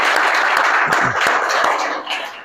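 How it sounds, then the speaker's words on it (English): Audience applause for a speaker at a business talk on artificial intelligence, a dense wash of many hands clapping, loud and close, steady for a couple of seconds before easing off. "Round of applause for Jeff"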